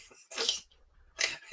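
A man sneezes twice, each a sharp, close, loud burst with a short gap between them, and no talk over them.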